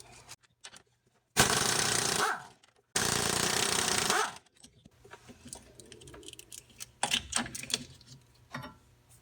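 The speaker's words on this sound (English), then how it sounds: "So we're going to undo these bolts on the bottom side, which are 12 millimeters." Two loud bursts of a power impact tool undo 12 mm sway bar bushing bolts underneath a 2001 Honda CR-V, each rattling for about a second, followed by metallic clinks and handling noises of parts coming loose.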